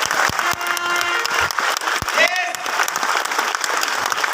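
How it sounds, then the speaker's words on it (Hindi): An auditorium audience claps in a loose, uneven patter. Voices and other hall noise mix in, with a brief tonal sound partway through. "इतनी तालियां बजा आपके लिए?"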